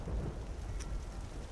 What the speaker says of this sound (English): Oh, I don't like the sound of that thunder.